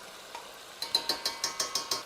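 Pork with pepper and tomato paste being stirred in a pan, a series of seven or eight evenly spaced scraping strokes of a utensil against the pan, close and fairly quiet, with no talking.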